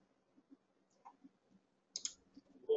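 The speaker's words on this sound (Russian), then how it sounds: "Двойной щелчок на этом имени и обратиться на этот удаленный узел" A computer mouse gives a few faint, sparse clicks in a quiet room, including a quick double click, with soft handling noise between them and no talk.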